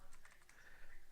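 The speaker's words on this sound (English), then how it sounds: "I'm just typing a message to Tom" Quick keystrokes on a computer keyboard as a message is tapped out, faint and close, an irregular burst of clicks over soft room noise at a car boot sale.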